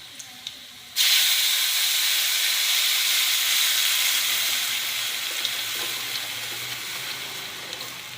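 A steady, loud hissing and bubbling of a pot of garlic curry at a rolling boil begins abruptly after a second and continues evenly, close by.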